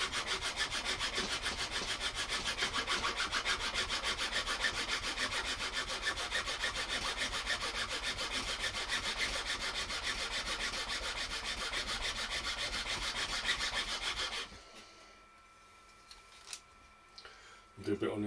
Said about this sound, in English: I simply just pop my axle in there, or my axle box in there, get the file.